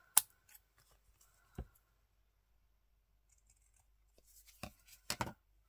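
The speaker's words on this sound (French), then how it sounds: "on va couper ce qui dépasse" Scissors trimming excess paper for a scrapbook art collage card, a few sharp isolated snips followed by a quick cluster of cuts in a quiet room.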